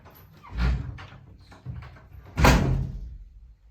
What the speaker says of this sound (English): Take time with the doors.